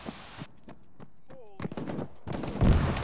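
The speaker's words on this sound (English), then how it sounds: "one's being engaged by a BTR with an auto cannon from the north-northeast" Video-game BTR armored vehicle autocannon fire in Arma sounds as sharp, loud bursts of heavy shots in uneven groups, with a radio-like chirp and some voice chatter between them.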